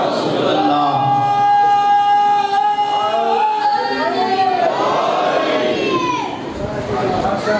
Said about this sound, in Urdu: سارے نعرے لگے کرو